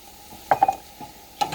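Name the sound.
flour stirred into melted butter and garlic, sizzling in pan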